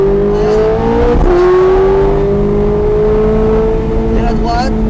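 A Ferrari F430 Scuderia accelerates on a racetrack, its engine note rising steadily and loudly from near the car, with a voice talking over it.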